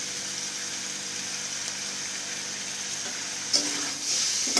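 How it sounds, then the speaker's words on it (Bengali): Steady hissing sizzle of chicken frying in a pan, close and even, with a brief clatter of movement near the end. "তারপর চিকেনটা একটু হালকা ভেজে নেবো"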